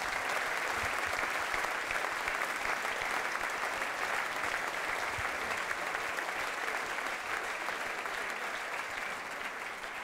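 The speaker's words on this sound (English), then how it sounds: "Ladies and gentlemen, round of applause." Sustained applause from a hotel dinner-event crowd in Bradford, a long, even roar of many clapping hands lasting about ten seconds with no speech over it, easing only slightly near the end.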